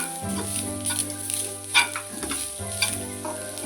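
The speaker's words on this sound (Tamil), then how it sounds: "அதோட கொஞ்சம் சின்ன உள்ளி போட்டு நல்லா பொன்னிறமாக வதக்கணும்." Coconut, pepper, cumin and shallots sauté in a pan with a steady sizzle and occasional stirring scrapes, under soft background music.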